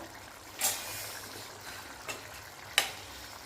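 A bitter gourd curry cooks in a pan while a spoon stirs it, giving three faint scrapes against a quiet, soft simmering background.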